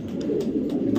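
A male red checker racing pigeon from a BRPL club coos in a continuous low rolling call, close and fairly loud, alone without talk.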